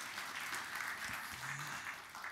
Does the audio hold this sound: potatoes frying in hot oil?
no